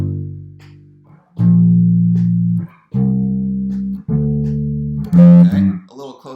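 Bass guitar plays a pentatonic riff as four sustained low notes in a steady rhythm, close and loud, followed by a brief higher note and a short burst of voice at the end.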